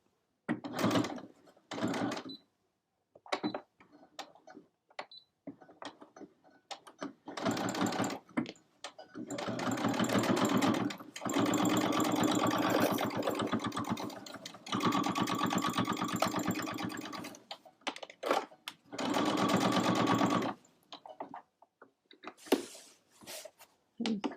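A sewing machine stitches a stocking closed with a quarter-inch seam right along the edge, running in several sustained bursts of a few seconds each, separated by pauses with light handling clatter.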